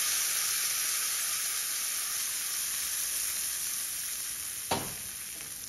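Hot tempering of asafoetida and two dried red chillies poured over a potato mixture in a pan sizzles steadily with a bright frying hiss, followed near the end by a brief sharp crackle.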